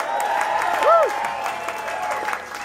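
A concert crowd at BB Kings in New York claps and cheers in a dense wash of applause, with a whistle rising and falling briefly partway through.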